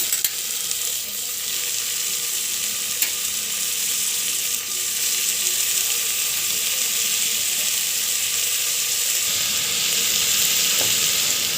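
Boiled beans with ginger frying in a pan, a loud continuous sizzle that stays even and close throughout, with a faint squeal and no voices.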